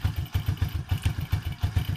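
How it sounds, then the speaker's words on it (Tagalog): Motorcycle engine idling during carburetor tuning of the air and fuel mixture, a close, loud, rhythmic low thumping putter with steady regular pulses and no talk. "hahanapin nyo dito sa air and fuel mixture yung pinakamatining na tunog ng makina o yung pinakamagandang tunog ng makina"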